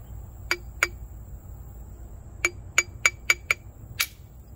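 Flint knapping on a flint biscuit, striking off large flakes: about eight sharp, bright clicks in irregular bursts, close and clear over a quiet background with no talking.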